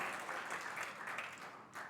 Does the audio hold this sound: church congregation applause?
yes